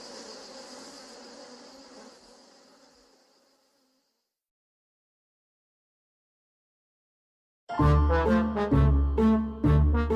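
A dense, steady buzz of bees from a hive fills the first few seconds, then fades out into silence; loud tonal music bursts in near the end.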